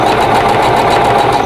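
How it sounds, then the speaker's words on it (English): A sewing machine stitches two rows of a quilt block together, a steady, close mechanical whir running without pause and with no talk over it. "so I'm going to sew the other 2 rows together and do the same thing."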